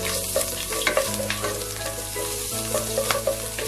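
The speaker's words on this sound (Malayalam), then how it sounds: "നമുക്ക് ആദ്യം ഇഞ്ചി അതുപോലെ തന്നെ വെളുത്തുള്ളിയും കൂടി ചതച്ച് വെച്ചിരിക്കുന്നത് ചേർത്ത് കൊടുക്കാം" Crushed ginger and garlic fry in sunflower oil with a steady, close sizzle, broken by clinks and scrapes of stirring and a low background hum.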